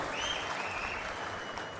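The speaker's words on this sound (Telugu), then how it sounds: "గట్టిగా చప్పట్లు కొట్టి అభినందించండి." Applause fills a public gathering as an audience claps loudly, a dense continuous roar of hands, with no talk over it.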